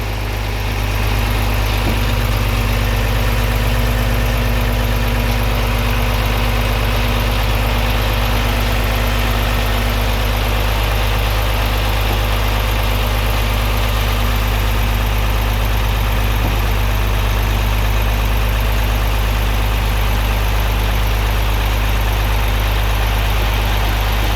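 A truck's engine idles in a steady, loud, low drone throughout as it unloads crushed stone from a quarry, with no voices.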